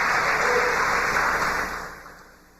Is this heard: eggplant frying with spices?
no